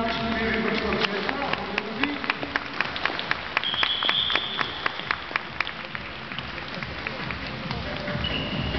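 Audience applause fills an indoor dolphinarium in Varna, a dense steady clapping with sharp claps standing out, while whistles, splashes and an announcer's voice mix in over the top.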